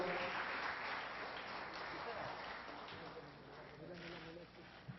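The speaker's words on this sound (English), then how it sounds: "Round of applause, please" Applause from an audience at an endowment lecture award ceremony, steady and continuous throughout, with voices murmuring and talking underneath.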